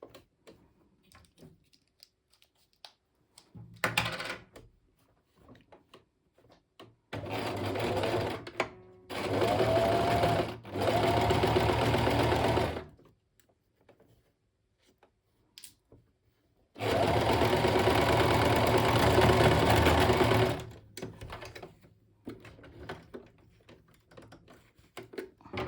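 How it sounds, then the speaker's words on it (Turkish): Electric sewing machine stitching a straight seam on the lining of a crocheted bag, running in several rapid whirring bursts of a few seconds each, separated by quiet pauses with small handling clicks. "9 santim olacak şekilde düz bir dikiş dikeceğiz yine"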